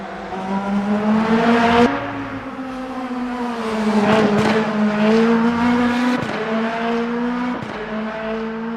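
Lamborghini race car engine in the Le Mans Ultimate racing game, a steady loud drone with engine pitch climbing and dropping as gears shift, several sharp upshift breaks, no talk.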